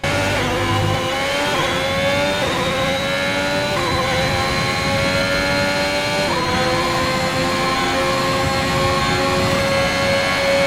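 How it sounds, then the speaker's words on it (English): A Formula 1 car engine in the F1 2021 game running at high revs through a qualifying lap, with loud continuous tonal howling, rising pitch sweeps across gear changes and a thin turbo whine layered on top. "I'm gonna let you guys hear the raw engine sounds of the new engine sounds on the F1 game"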